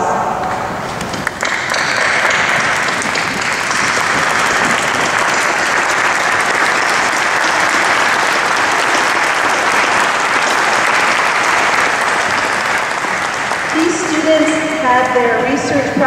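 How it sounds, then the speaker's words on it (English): An audience at a graduation hooding ceremony gives a long, loud round of applause, dense clapping sustained evenly for many seconds before tapering at the end. "rise and give them collectively a round of applause"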